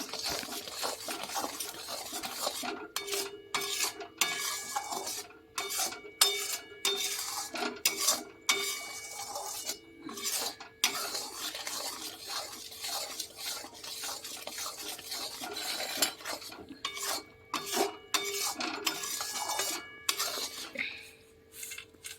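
Peanuts stirred into melted jaggery in a pan for chikki, a spoon scraping and clattering against the metal in repeated rhythmic strokes, close and clear, with no talk.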